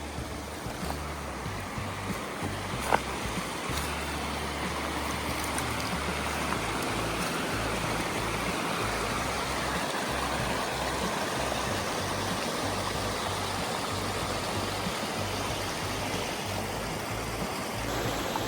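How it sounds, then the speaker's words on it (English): Steady broadband rush of a stream and waterfalls flowing beside a campsite on a Virginia overlanding route, constant and close, with faint low rumbling underneath and no talking. "These waterfalls, this stream is absolutely gorgeous."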